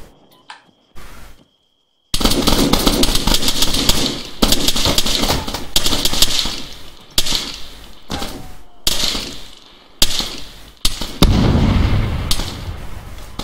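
Loud, dense bursts of game explosions in a military shooter, rumbling blasts that cut in and out in a rapid run of booms and crackling debris, with brief gaps of silence between them.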